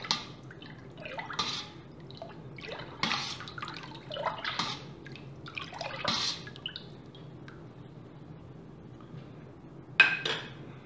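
A spoon stirs blue cheese mold culture into milk in a pot, producing soft liquid swishes and drips with occasional faint clinks against the side, repeating at an unhurried pace.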